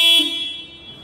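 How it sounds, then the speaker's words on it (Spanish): A 2019 BMW G 310 GS motorcycle horn gives a single short electronic beep, bright and tonal, sounding close by and fading quickly into quiet. "su claxon, vamos a hacerlo sonar"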